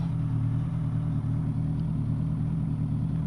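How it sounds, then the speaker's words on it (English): Suzuki GSX-S1000F motorcycle engine running steadily while riding, a continuous low drone with constant loudness and no talk over it. "there's my first real pleasure ride on my GSXS 1000F"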